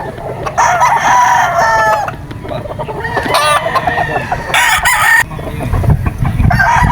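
A yellow-legged, P-comb Sweater gamefowl rooster at JDR Game Farm crows loud and close, with clucks and other birds calling around it and a short burst of rustling near the middle.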